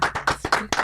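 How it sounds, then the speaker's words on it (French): Short audience applause for a guest at a French talk show, heard as five or six distinct, sharp, evenly spaced claps close to the microphone. "On peut applaudir"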